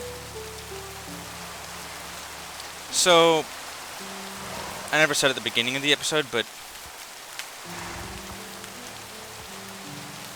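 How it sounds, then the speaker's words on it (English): Steady rain patters on a surface throughout in the video game Minecraft, with someone talking briefly over it and soft background music. "This is some rain."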